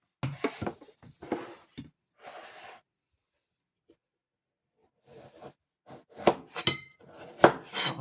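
Close knife sounds peeling the firm rind of a cut watermelon: soft scraping strokes, a pause, then sharper cuts and taps against a board.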